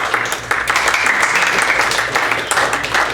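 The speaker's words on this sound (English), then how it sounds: "Just waiting for the last clap there" Audience applause fills a meeting room at a Lions Club gathering, dense steady clapping from many hands held at an even loudness for the whole stretch, with no voices over it.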